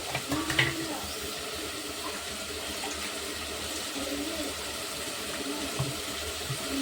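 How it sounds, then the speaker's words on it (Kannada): Water splashes and runs steadily into a cooking pot holding chicken nearby, a continuous pouring hiss with faint clinks. "ಈ ಪಾತ್ರೆ ನೀರು ಹಾಕೋತೀನಿ"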